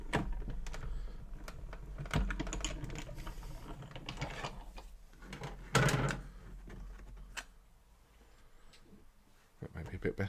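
A die cutting machine cranks through a cardmaking demo with clicking, ratcheting mechanical rattles and thumps in uneven bursts, heard close and moderately loud, with a person talking intermittently.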